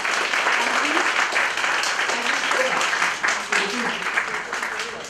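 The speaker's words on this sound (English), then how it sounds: "Can we have a big round of applause for Hemali and Richa?" An audience gives a round of applause for Hemali and Richa after a literary conversation at The Write Circle in Jaipur, dense steady clapping that tapers slightly at the end, with faint voices underneath.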